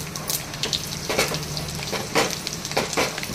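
Cumin, garlic and chillies tempering in hot oil for a ponaganti dal, a close busy sizzle with popping bursts and scraping stirs that swell and fade every second or so, no voices over it.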